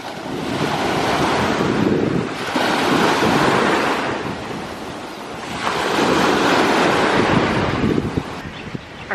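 Strong wind buffets the microphone while ocean waves surge and break on a Big Island, Hawai'i beach, loud and close, rising and easing in two long swells with no voices.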